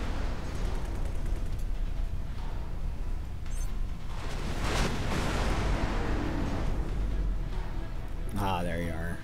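Explosions rumble at a refined goods complex in the space game X4 Foundations: a continuous heavy roar of booms and debris, with a sharper blast near the middle and a synthetic voice near the end.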